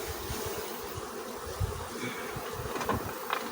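Honey bees buzzing around an open hive during honey harvest, a steady droning hum close by with a few louder passes, no voices.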